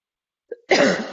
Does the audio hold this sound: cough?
yes